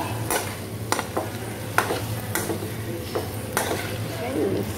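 Spiced chatpata aloo potatoes being stirred in a pan with turmeric and red chilli powder, giving repeated scraping and clinking strokes over a steady low sizzle, close and moderately loud.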